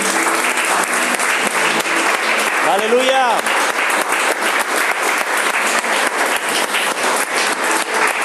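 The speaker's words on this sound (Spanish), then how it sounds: "Dale un aplauso al Señor." Sustained, loud applause fills a church congregation, dense and continuous for the whole stretch, with a voice calling out briefly over the clapping.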